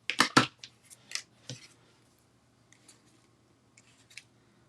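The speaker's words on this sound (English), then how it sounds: "And all I did was I just slant cut the ends." Scissors slant-cut the ends of paper for a handmade card, with a quick cluster of sharp snips up front, then a few fainter, scattered snips after a pause.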